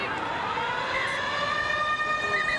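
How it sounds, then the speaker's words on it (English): Long siren wailing at the end of the first quarter of a women's rugby league All Stars match, NZ Maori against Indigenous women, a steady sustained tone over crowd noise at a stadium. "Siren sounds, and that'll do us."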